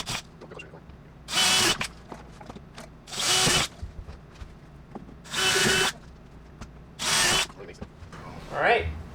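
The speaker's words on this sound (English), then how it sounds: "I'm going to take this drill bit and go into each corner" A power drill with a bit bores through the corners of an RV roof, sounding in four loud, whining bursts of about a second each, with quiet handling noises between them.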